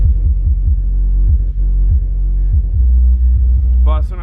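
Heavy bass from three-stack 12-inch Audio Pipe dual voice coil subwoofers rated at 1800 watts in a Jeep JL booms with a loud, throbbing low-end pulse, panels buzzing along and a rising high tone near the end.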